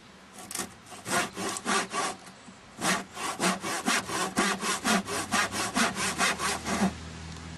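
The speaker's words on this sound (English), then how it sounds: "I'm going to have to take my trim saw, start it out here, and cut it down to about here." Hand trim saw cutting wood for a yard bench, a rhythmic rasping of quick back-and-forth strokes, close and steady after a few slower starting pulls, no talking.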